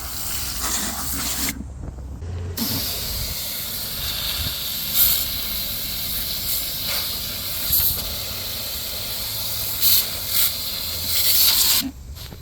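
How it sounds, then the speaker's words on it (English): Water squirted from inside a K&N air filter on a Mercedes-Benz C200 Kompressor, a steady close hiss of spray lasting most of the stretch, broken by a brief pause and ending with a short louder burst. "I'll just squirt from within the air filter"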